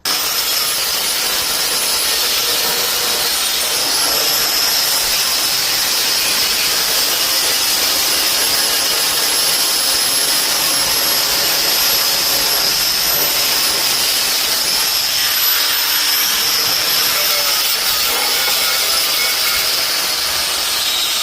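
A thin belt sander grinds continuously on the hood hinge of a 1991 Honda CRX Si, a loud, close, steady high-pitched whine with slight shifts in pressure and no talking.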